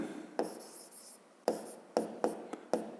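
Pen writing on paper while working a fifth-grade geometry exercise, a few quick scratchy strokes in separate bursts, close and quiet, with no talk.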